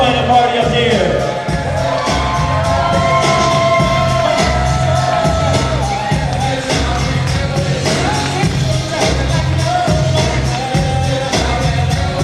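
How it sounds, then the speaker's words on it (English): Wedding reception guests applauding and cheering for the bridal party: loud, sustained clapping with whoops and shouts from the crowd, and a few louder bangs scattered throughout. "huge round of applause for our beautiful bridal party up here."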